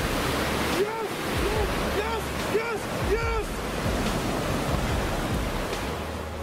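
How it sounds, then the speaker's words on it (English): Yellowstone geyser erupting, with hot water and steam gushing in a loud, steady roar like rushing surf while people shout excitedly nearby. "This is a big eruption."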